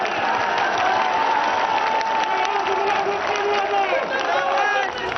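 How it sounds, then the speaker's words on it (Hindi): A large crowd at an election rally in Uttar Pradesh keeps up a steady roar of cheering, clapping and shouting, loud and continuous throughout, with no single voice standing out. "भीड़ का शोर बढ़ गया"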